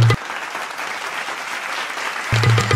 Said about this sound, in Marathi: नवरदेवासाठी जोरदार टाळ्या वाजवा